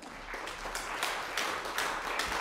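An audience at a lute concert of Renaissance chansons applauds the two musicians, with bright, dense clapping that swells in waves, close and full throughout.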